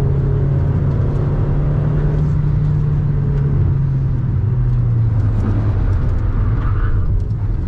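A VW Saveiro pickup accelerates through curves with a loud, close engine drone and road rumble. The pitch eases down and rises again as the car takes the bends. No one talks over it.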